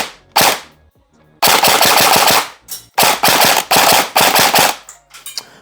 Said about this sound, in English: We're just gonna get a feel for the replica, see how she fires